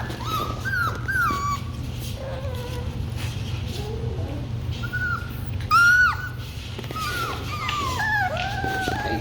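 A young Kiwi puppy whimpers and yips in repeated high, wavering cries and short sharp squeaks, close and fairly loud over a low steady background hum.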